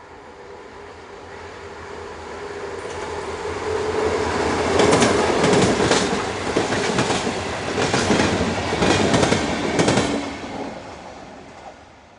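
Aurizon freight train locomotives rumble past nearby, with rhythmic clickety-clack of wheels over rail joints swelling in the middle and fading toward the end.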